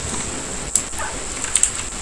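Rain falls in a bigfoot hunting video game as a steady, even hiss, with a faint high tone and a few soft drips or taps.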